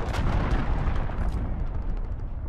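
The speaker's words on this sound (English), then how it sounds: "Allied cruise missile away." Heavy cruise missile strike explosions roll through a Call of Duty: Modern Warfare team deathmatch on the Azhir Cave map, a loud, continuous rumbling barrage of booms with no voices.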